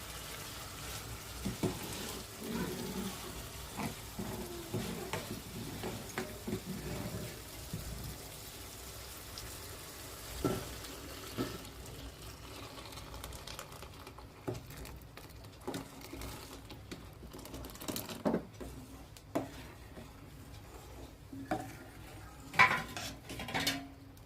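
Dal tipped into a sizzling mashed tomato and green chili tempering for a Marathi phodnicha varan, then stirred with a metal spoon against the pot, bright scrapes and clinks over a faint steady sizzle, with no one speaking.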